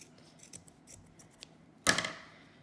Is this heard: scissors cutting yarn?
yes